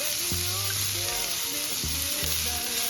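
Butter sizzles in a hot frying pan with a steady, close crackling hiss throughout, over faint tonal background sounds.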